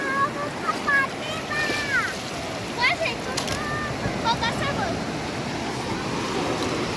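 Sea waves wash over sand at Tarkarli beach on the Konkan coast, a continuous close rushing roar with wind, while someone talks over it.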